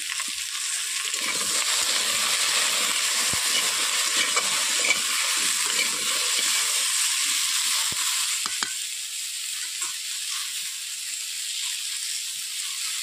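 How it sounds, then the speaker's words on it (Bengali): Pieces of elephant foot yam (kham alu) fry in oil in a pan, a loud continuous sizzle with occasional stirring scrapes that settles to a softer hiss near the end. "খামালু আলুগুলোকে আমি ভেজে নিচ্ছি"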